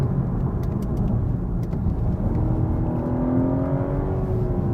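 A 2023 BMW M340i engine heard from inside the moving car, a steady low drone with a rising whine from gear changes, close and continuous, no speech.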